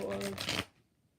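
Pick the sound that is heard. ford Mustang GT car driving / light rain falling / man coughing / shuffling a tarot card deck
shuffling a tarot card deck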